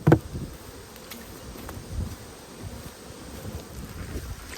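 Honey bees buzz around a nucleus hive in an Australian apiary. The humming is soft and continuous, with faint wind and a few light bumps, and no voices.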